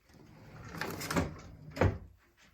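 A storage drawer in a model train room slides open with a soft scraping rumble followed by two sharper knocks, fairly quiet and close by, with no talking.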